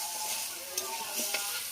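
Potatoes are stirred together with rohu fish heads and onions in a frying pan, giving a soft steady sizzle under brief scraping strokes of a spatula, close and unaccompanied by speech.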